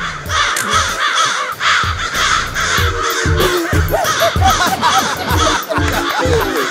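A flock of crows caws loudly and repeatedly, close by, in a steady overlapping chorus with brief laughter-like sounds mixed in.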